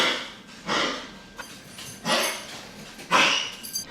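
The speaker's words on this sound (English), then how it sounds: "a dog that has this crazy cough and there's noise all the time" A dog coughs and hacks in several harsh, raspy bursts close by, with short pauses and snorting breaths between them.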